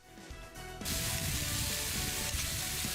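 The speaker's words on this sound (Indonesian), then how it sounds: "Setelah bumbu wangi ditumis, ikan giling ikut ditumis juga sebelum dicampur bersama dengan kuah santan" Spices and ground fish sizzling loudly in a hot pan for a coconut-milk fish broth, a steady dense frying hiss that swells after a quieter start, close up with no talking.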